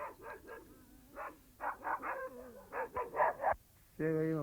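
Several puppies bark and yip in quick bursts, some whimpering between calls, a lively irregular chorus close by, ending with a sharper, louder yelp at the end.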